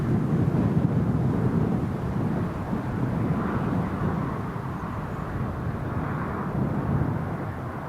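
A Ryanair jet at a stand at Newcastle International Airport pushes back and starts its engines, a continuous loud, rumbling roar with a steady broadband whine and no talking.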